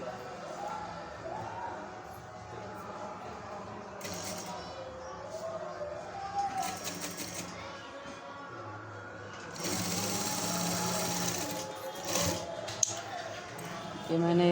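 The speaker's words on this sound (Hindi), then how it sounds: "अब हम यहाँ पे सिलाई डालते हैं अपनी" A sewing machine stitches around a blouse neckline in bursts, with quieter stretches in between and some background voices.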